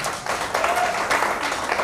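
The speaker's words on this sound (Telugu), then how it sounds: "అందరికీ ఒకసారి గట్టిగా చప్పట్లు కొడదాం." Guests at a high school batch reunion party give loud applause, a continuous crowd of hands clapping together that swells in a couple of waves.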